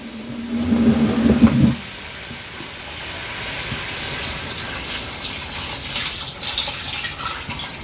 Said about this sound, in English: Now we are to put our beef broth in.